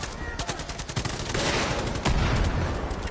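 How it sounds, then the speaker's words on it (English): Gunfire in the Far Cry 5 video game, rapid shots rattling in bursts over a dense, noisy mix, growing heavier in the second half with low booming impacts. "Popping a couple of bullets into that one."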